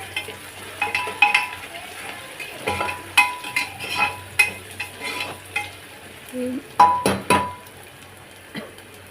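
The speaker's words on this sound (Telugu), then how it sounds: "ఇది కూడా కొంచెం పచ్చివాసన పోయే వరకు కలుపుకుందాం" Gongura mutton curry stirred in a pan, a spoon scraping and clacking in a broken series of strokes over a constant sizzle, fairly close with no voices.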